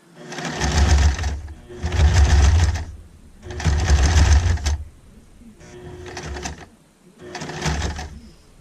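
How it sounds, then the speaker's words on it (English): A sewing machine stitches a baby bib in four or five loud, steady runs of a second or so each, with short pauses between as the fabric is turned and the presser foot lifted. "I'm slowly turning it with my hand, and I'm going to probably end up having to stop sewing and lift my foot here."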